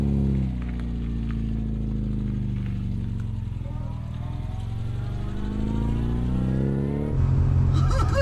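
A mini Countach replica car drives off, its small engine droning and rising in pitch under acceleration, heard close from on board, with a louder burst near the end.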